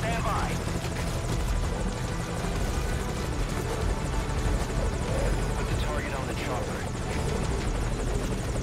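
Helicopter in the video game Metal Gear Solid V: Ground Zeroes, a steady loud rotor and engine drone running throughout, with voices talking over it.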